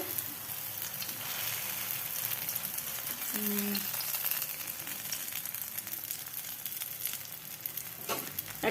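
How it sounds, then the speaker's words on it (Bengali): Batter spread thin like a flatbread sizzles in overheated oil in a frying pan, a steady crackling hiss heard close with faint background household noise. "ফ্রাইং প্যানের তেলটা গরম হয়ে গেছে এই যে এখানে দিয়ে দিলাম"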